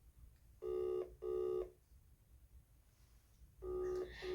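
An outgoing video call rings on a phone in a repeating tone: two short bursts, a pause, then the next pair begins, clear and close against a quiet room.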